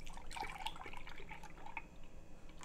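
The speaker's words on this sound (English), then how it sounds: "put a cup of milk in here." A cup of milk pours into a bowl for lemon vanilla waffle batter, a soft continuous liquid trickle with faint splashes and drips, steady and close throughout.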